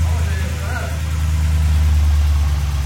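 An Audi RS7 with modified intake and high- and low-pressure fuel pumps runs steadily close by, a deep loud engine drone holding near idle with a slight rise in revs, while people talk over it.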